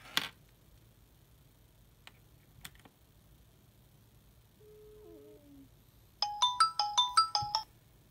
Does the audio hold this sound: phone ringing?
yes